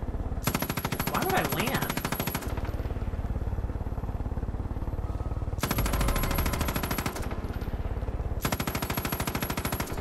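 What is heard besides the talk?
machine gun fire in the video game Far Cry 5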